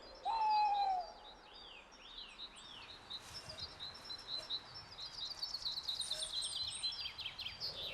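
A tawny owl gives a short hoot near the start, followed by a run of thin chirping bird calls over a low, steady outdoor hush in a graveyard at night, faint and distant.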